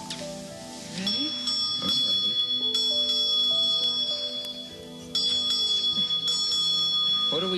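A ship's bell struck eight times to ring in the new year gives repeated bright metallic clangs with long ringing sustain, each strike layering over the last, heard close and loud.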